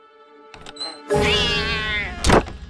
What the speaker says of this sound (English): Kitty's not nice. Kitty's angry.